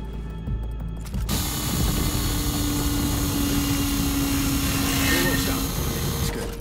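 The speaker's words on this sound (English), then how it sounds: "Drill here." Drill boring through a plate in the Call of Duty Ghosts video game, a loud continuous mechanical whirring grind that starts abruptly after a second and holds steady, with a faint tonal whine running through it.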